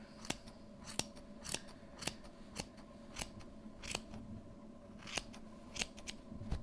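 Scissors snip overlapping yarn on a custom tufted rug, a steady series of about a dozen crisp close cuts at an even pace over a faint background hum, no voices.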